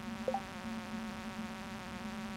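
Mosquitoes buzzing during fishing in Stardew Valley, a steady, quiet insect drone that holds throughout without pause, with a brief tonal blip near the start and no talk.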